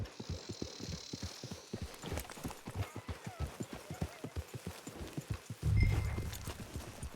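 Horse hooves in the Western video game Red Dead Redemption Online, a close, even clip-clop that repeats steadily in a regular gait, with a brief thump near the end.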